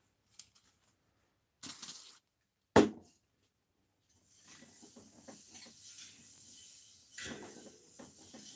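Carb cleaner sprayed onto mountain bike parts: a few short, sharp spray bursts with clinks, then a longer steady hiss that fades and returns.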